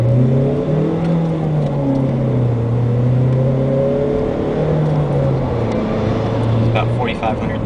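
A 2012 Ford Focus revs while driving through a neighborhood, its engine note loud and close, rising and falling in pitch over several throttle changes.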